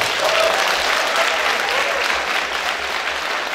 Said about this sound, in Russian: Вам аплодируют?